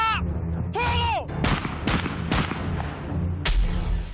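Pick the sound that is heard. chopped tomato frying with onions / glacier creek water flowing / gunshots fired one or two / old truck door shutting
gunshots fired one or two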